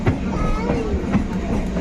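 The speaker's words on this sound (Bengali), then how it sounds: "শিয়ালদার থেকে ট্রেন ছেড়ে দিয়েছে।" A passenger train pulls out of Sealdah station, a low rolling rumble with a few rhythmic wheel clanks heard from on board, while people talk faintly nearby.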